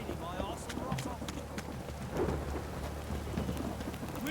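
Steady rain falls with rumbling thunder in The Witcher 3 video game, while voices speak over the storm.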